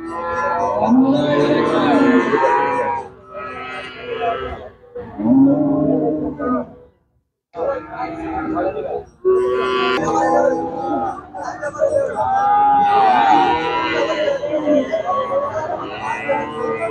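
Low cattle moos and lowing rise amid a crowded, busy cattle market, with people talking over one another nearby.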